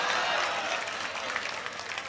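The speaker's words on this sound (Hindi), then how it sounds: "देखिए तमाम लोग खुश हो रहे हैं, तालियां बजा रहे हैं।" An audience at a mushaira, an Urdu poetry recital in Nanded, India, claps continuously in a soft, dense patter heard from a distance for the whole clip.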